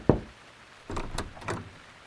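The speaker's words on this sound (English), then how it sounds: "A police officer knocked at the door." A police officer knocks at a house door in the evening: a single sharp rap, then three more spaced knocks, fairly close and clear with no talking.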